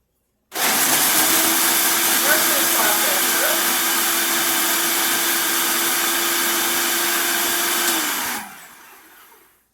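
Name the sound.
blender blending Simple Mills peanut butter cookies for pie crust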